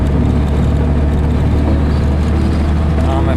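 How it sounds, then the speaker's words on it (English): A VW air-cooled 1776 single-port engine drones loudly and steadily under heavy wind rush while the car moves into fourth gear at about 50 mph. The drone is continuous, with no distinct break. "There I go into fourth gear."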